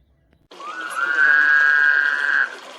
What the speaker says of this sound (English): These frogs at the hotel drainage pool made the strangest sound.